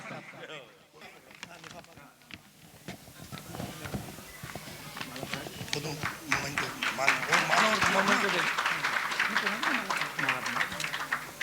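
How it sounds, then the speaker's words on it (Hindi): An audience at a Jain religious ceremony in Pratap Nagar, Jaipur claps in unison, the applause building steadily and growing louder and denser over several seconds, with a voice talking over it. "एक बार ऊपर हाथ करके आदरणीय प्रतिष्ठाचार्य के सम्मान में तालियां बजाएं सभी एक साथ"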